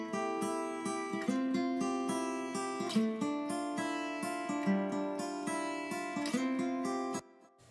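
A mono acoustic guitar recorded with one close and one room microphone plays a strummed and picked chord progression, clear and steady for several seconds before cutting off, alone.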